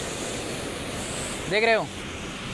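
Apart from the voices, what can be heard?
flowing water of a stream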